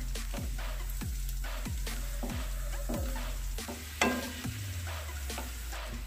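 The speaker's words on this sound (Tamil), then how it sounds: "இனி முந்திரி பருப்பு வந்து நல்ல கோல்டன் கலர் வரது வரைக்கும் நம்ம நல்லா வறுத்துக்கலாம்" Cashew nuts roasting in ghee crackle with a steady sizzle, punctuated by a regular series of low thumps and a sharper clack of the spoon against the pan, close and fairly loud.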